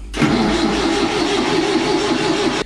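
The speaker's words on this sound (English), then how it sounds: "So we're cranking the engine" The engine of an old, abandoned sailing yacht under restoration cranks and catches, a steady loud churning start sustained for a couple of seconds before cutting off abruptly.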